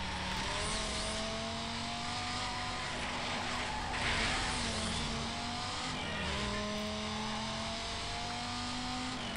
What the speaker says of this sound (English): Oh god, yeah, this thing drifts.